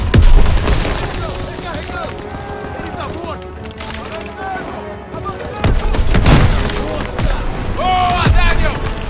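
A grenade goes off in the Call of Duty WWII factory battle, a heavy boom among scattered gunfire and explosions, with voices shouting over the loud combat.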